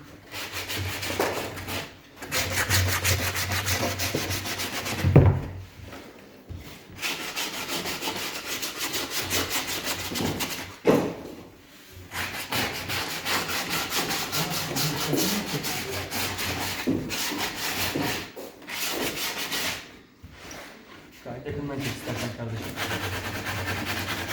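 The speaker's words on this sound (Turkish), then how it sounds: "zımparalama işlemine geçtik" Continuous rough rasping of wood being sanded by hand while making a pandizot, steady strokes with a few short pauses, close by.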